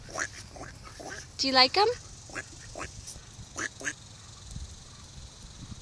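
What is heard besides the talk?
ducks quacking by a river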